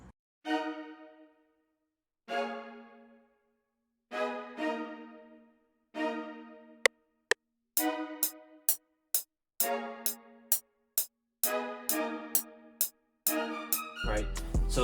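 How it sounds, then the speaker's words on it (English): BBC Orchestra spiccato strings on violas, starting with a few ringing plucked-sounding chords spaced apart, then a run of short, crisp detached notes in a steady rhythm, clear and solo before other sound enters at the end. "So then next we got BBC Orchestra with the spiccato strings, violas, and it sounds like this"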